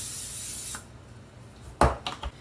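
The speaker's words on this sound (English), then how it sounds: "So I'm going to coat this really good with the non-stick cooking spray." Non-stick cooking spray hisses from an aerosol can onto a donut pan in one long spray, followed after a pause by a few quick clatters and rubbing sounds.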